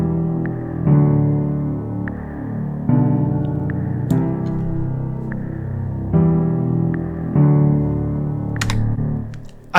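A baby's lips flapping, recorded and turned into an EQ-processed drum sample with the highs rolled off, playing as a repeating percussive hit over a steady musical loop, rhythmic and fairly loud with no talking.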